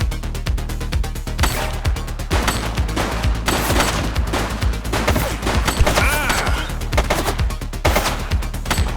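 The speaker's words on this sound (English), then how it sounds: "Shots fired!" Rapid bursts of automatic gunfire fill a police shootout in the game The Precinct, dense rattling volleys and single shots, loud and close, running almost continuously with brief gaps.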